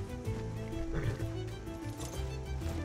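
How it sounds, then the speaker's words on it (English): A white spotted wild horse in Skyrim whinnies and clip-clops over layered game music, with steady hoof and breath sounds close by and no talking. "You've found the white horse."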